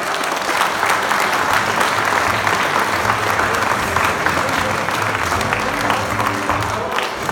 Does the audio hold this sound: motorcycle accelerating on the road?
no